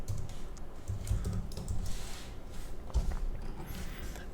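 Keystrokes tapping on a computer keyboard while a dashboard web page is coded, a steady run of soft, close clicks with a few heavier presses and no speech.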